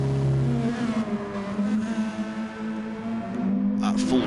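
Race car engine held at full revs in second gear at the Nürburgring 24-hour event, a loud sustained drone with shifting pitch and a sharper burst near the end, with background talk.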